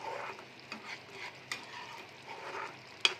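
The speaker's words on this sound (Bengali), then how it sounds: "এবার একটু নাড়িয়ে দেব।" Gentle stirring of stuffed pointed gourd in a pan of gravy, soft scraping strokes over a low sizzle with a few light spoon taps, quiet and close.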